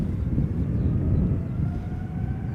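KLM airliner, registration PH-BQL, 18 years old, operating flight 677 to Calgary at Schiphol Airport, gives a steady, loud low roar of jet engines that holds evenly throughout with no voices.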